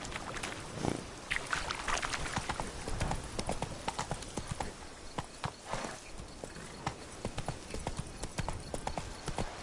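Roach, a horse in The Witcher 3, gallops with a steady, loud clip-clop of hooves that runs throughout, with a few brief game sounds mixed in.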